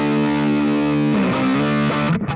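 Electric guitar played through a homemade Fat Rat distortion pedal with its filter engaged: a sustained, heavily distorted chord rings, then shifts into a buzzier, grittier tone before cutting out abruptly.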